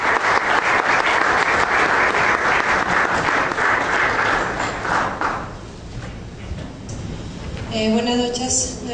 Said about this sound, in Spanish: Por favor, les pido un aplauso a los bienvenidos.